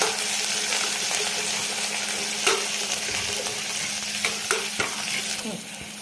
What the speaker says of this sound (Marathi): कोथिंबीर हिरवी मिरची याचं वाटण टाकून घेते त्याला छान फ्राय करायचं